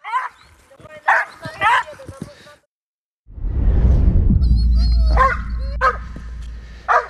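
Dog barking in short, sharp bursts over a loud rumbling background, with speech earlier in the clip during a television show segment.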